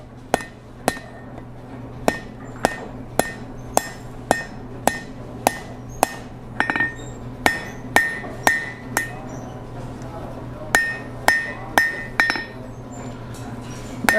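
A blacksmith hammers a steel hook, sharp ringing metallic strikes landing in a steady rhythm of roughly two dozen close blows with brief pauses, over a low hum.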